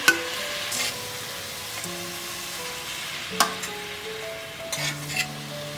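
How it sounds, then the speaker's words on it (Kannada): Chopped tomatoes added to a frying masala with dried mint in a pan, giving a soft steady sizzle with occasional stirring scrapes and clinks of a utensil against the pot. "ಸ್ವಲ್ಪ ಫ್ರೈ ಆದಮೇಲೆ ಒಂದು 4 ಟೊಮೆಟೊನ ಹಾಕ್ಕೊತಾ ಇದ್ದೀನಿ ಕಟ್ ಮಾಡಿ"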